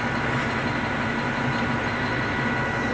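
An XCMG ZL50GN wheel loader runs steadily, its engine a loud, constant broadband roar with a low hum and no change over the few seconds, no voices.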